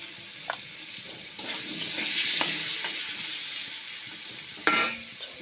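Pumpkin pieces fry in oil with turmeric and salt, a close continuous sizzle that rises and falls gently, with a few clinks and scrapes of stirring and a sharper knock near the end, no talking.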